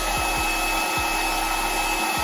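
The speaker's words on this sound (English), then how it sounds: "I got a blow dryer and my pork chops right here. You just wanna turn it on." Hair dryer blasting hot air onto frozen pork chops, a loud, steady close-up whir with a few soft low thumps as it is moved around.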